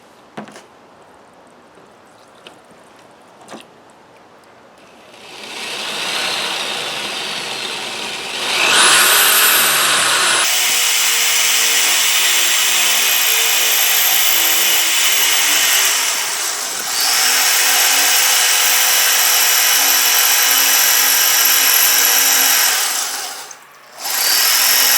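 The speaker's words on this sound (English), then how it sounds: "got the corded drill" A few faint taps, then a corded electric drill boring a hole in stone whines up loudly and runs steadily for a long stretch, briefly dropping off near the end before restarting.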